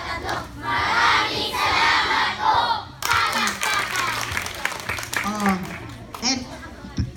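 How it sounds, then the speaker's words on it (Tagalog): Children at an Aeta school applauding, a loud burst of clapping and excited shouting for about three seconds, then fading into scattered claps and talking. "Magbigay tayo ng maraming salamat pong palakpak."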